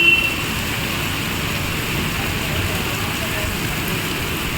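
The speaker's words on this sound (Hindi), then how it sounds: "देखो कितनी तेज़ बारिश है।" Heavy rain pours during a storm, a steady loud wash of broadband hiss with no clear breaks, heard close from inside a home.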